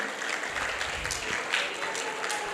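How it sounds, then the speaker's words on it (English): An audience at a youth seminar in Hyderabad claps for a group, steady applause from a crowd heard at moderate distance, rather faint. "Please, everybody clap for them."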